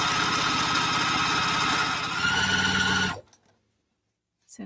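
A Juki sewing machine stitching a pillowcase, a fast, steady mechanical whir running for about three seconds before stopping abruptly, then near silence and a brief faint bump at the end.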